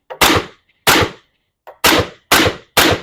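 Five sharp, loud rifle shots, each fired through a suppressor, come in an uneven rhythm about half a second apart, with no talking.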